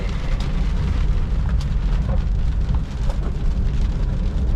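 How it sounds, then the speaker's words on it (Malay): Heavy rain arrives in a dense, steady roar of drops hitting surfaces, loud and close with a low rumbling undertone and no voices. "Oh, ngam-ngam hujan sampai"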